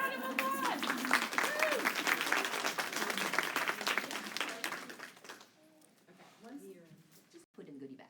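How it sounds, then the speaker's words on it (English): Audience applause fills a room, dense and loud for about five seconds, then thins into scattered claps and fades as a voice begins speaking near the end. "Let's give her a round of applause."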